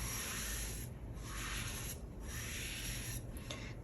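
A squeezed-out sponge rubs back and forth across a ceramic bowl in steady, rhythmic strokes, close by, with a soft scraping hiss and no voices.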